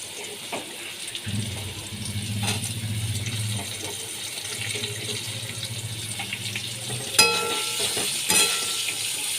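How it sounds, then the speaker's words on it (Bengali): Potatoes and chopped onions frying in a pan for jhinge aloo posto, giving a soft, steady sizzle with occasional stirring clinks and a couple of sharper scrapes near the end, fairly quiet and without talk. "পেঁয়াজ দিয়ে আমি ভালো করে ভেজে নিচ্ছি"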